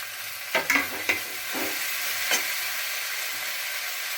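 A wet paste of ground cumin and coriander hits a hot pan with fried ginger and garlic, giving a steady, loud sizzling hiss. A few clattering stirs of a spoon come near the start and once more midway.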